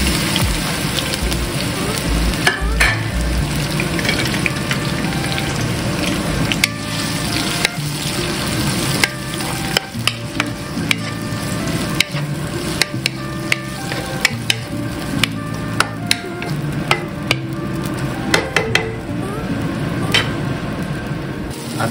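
Onion and tomato sautéing in a pan, a loud continuous sizzle broken by sharp clicks and scrapes of a spoon stirring against the pan, close up and steady throughout.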